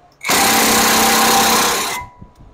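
An impact wrench drives a new wheel stud into a hub, a loud, close burst of rapid hammering lasting under two seconds that stops abruptly.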